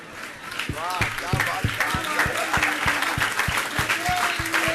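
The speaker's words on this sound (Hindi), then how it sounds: "जोरदार करो, जोरदार तालियां।" An audience at a Jain religious question-and-answer gathering breaks into applause that builds quickly into a dense wash of clapping. A voice speaks over the claps throughout.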